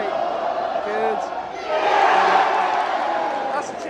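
At a Glentoran versus Linfield football derby, a stadium crowd swells into a loud, broad cheer that peaks and then fades, while a nearby voice talks close by over the din.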